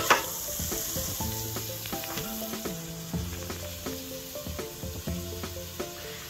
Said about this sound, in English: Bit of rich creamery NZ butter. Whack that in there.